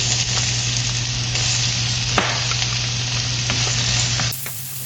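Onion sautés in olive oil in a pan with a loud, continuous close-up sizzle and crackle that runs steadily before cutting off abruptly near the end.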